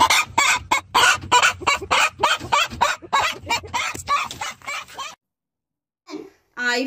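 A hen clucks and squawks in short, rapid bursts, loud and close, followed by a brief pause and a few more clucks.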